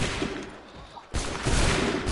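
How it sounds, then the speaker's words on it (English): Soldiers fire a loud volley of muskets in Assassin's Creed III. A rumbling crackle of shots drops off briefly, then bursts back in harder. "Soldiers are shooting them all."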